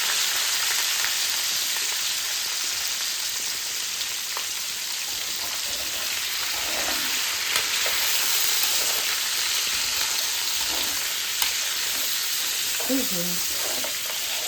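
Beans tipped into a hot pan fry with a steady, dense sizzle that runs close and loud throughout, with faint stirring scrapes and clinks near the end and no voices.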